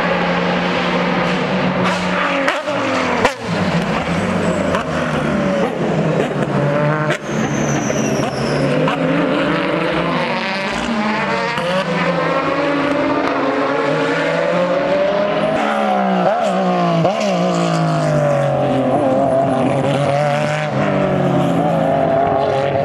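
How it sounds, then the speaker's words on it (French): A race car at the Spa circuit downshifting through the gears, a loud close engine roar whose pitch sweeps repeatedly up and down with sharp blips, dominating the whole stretch, with faint voices underneath. "Quand elle arrive ici et qu'elle rétrograde dans les vitesses, elle fait un bruit de malade."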